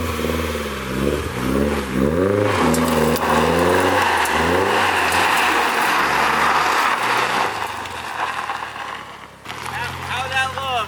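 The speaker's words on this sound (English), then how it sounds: "We're gonna see if it'll do a donut quick." A Nissan S14 Kouki with no power steering spins a donut, its engine revving loudly and close by in rising and falling surges, with a sharp climb near the end.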